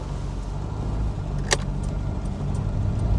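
A Citroen BX 16 MK1 driving along a hilly road, heard from inside as a steady low engine hum and road noise, with a brief sharp click partway through.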